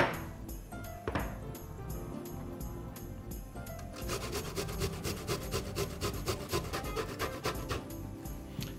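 Lemon zest being grated into a bowl: rhythmic rasping strokes, slower at first, then a faster steady run of repeated scrapes close up.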